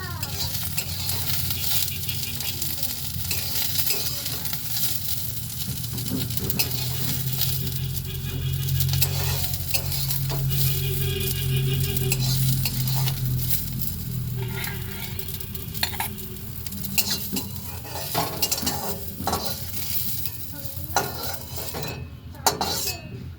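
Cauliflower sizzles loudly in oil in a wok, with busy stirring, scraping and clinks of a metal spatula against the pan running continuously close up.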